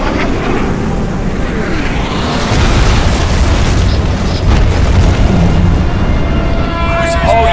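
In the video game Crysis, an air strike hits a cruiser and sets off a loud, sustained explosion. A dense roaring rumble with a deep low end runs steadily for several seconds.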